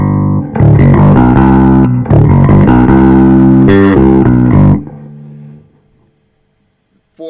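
Bass guitar played through the speaker output of a Trace Elliot Elf amp, loud sustained distorted-sounding notes in several phrases, then fading to silence at the end, with no talk.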